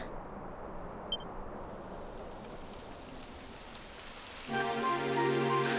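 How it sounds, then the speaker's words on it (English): Rain falling in the video game Dragon Quest XI, a soft hiss of drops that thickens and grows louder toward the end, with a faint blip early on. "It would have to go and start raining, wouldn't it?"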